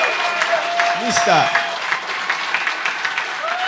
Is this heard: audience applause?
yes